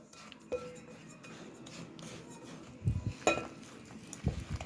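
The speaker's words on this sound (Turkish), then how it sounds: "çay kaşığı tuz, 2 yemek kaşığı un. Karıştıralım." A spoon stirs a dry mix of fine bulgur, semolina, salt and flour in a bowl for beet bulgur köfte, giving soft scraping and rubbing strokes with a few louder clinks near the end, close and quiet, with no talking.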